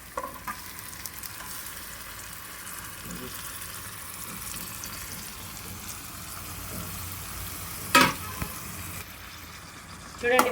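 Marinated chicken pieces for Andhra-style chicken gravy frying in a pan, a steady soft sizzle throughout with a couple of brief clatters of stirring near the end.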